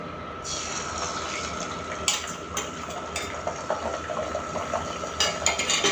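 Eggs go into hot oil in a pan, setting off a steady sizzle with crackling spatters that grow busier toward the end, close by and with no talking.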